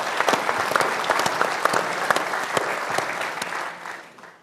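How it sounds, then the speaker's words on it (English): A fans forum audience for Hull FC breaks into a loud, sustained round of clapping that tapers off toward the end, with a few people faintly heard amid the applause. "Give him a round of applause."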